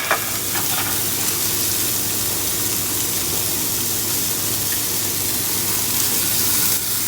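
A snapper fillet searing in a very hot cast iron pot, producing a loud, continuous close-up sizzle and spatter from start to finish, with no voices.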